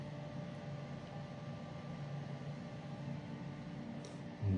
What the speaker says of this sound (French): le bruit que vous entendez, c'est une ventilation donc VMC qui a été installée pour fonctionner avec les éclairages